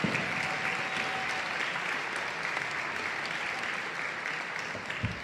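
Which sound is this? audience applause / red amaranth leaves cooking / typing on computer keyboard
audience applause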